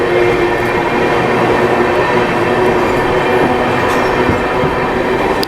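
Loud, steady rumble inside an AC chair car of the Shatabdi Express at the Meerut City halt, with continuous rail noise and faint wheel clatter filling the whole stretch, no voices.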